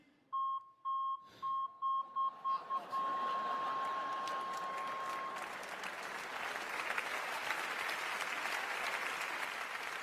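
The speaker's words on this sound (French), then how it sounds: "c'est le même bip que le bip de recul sur ma voiture" Evenly spaced electronic beeps repeat about eight times, then become a long steady tone that fades into a loud, crackling wash resembling applause.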